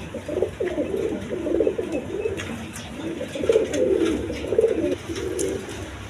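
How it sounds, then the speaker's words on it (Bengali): Two pairs of pet pigeons, a mayadom, a jag and khaki-throated birds, cooing close by in repeated low, throaty phrases that come in waves throughout. "প্রিয় বন্ধুগণ, এখানে দেখেন দুই পেয়ার কবুতর আছে"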